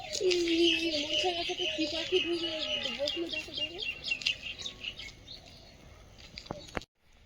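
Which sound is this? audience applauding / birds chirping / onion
birds chirping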